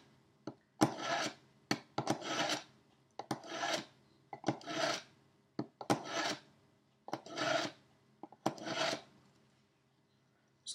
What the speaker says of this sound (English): So if I now put it in the fine section, just to hone it off, we'll see whether that makes a difference.